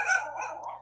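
A dog gives a single close, high-pitched bark that trails into a short yelping whine, loud and alone over a faint steady hum.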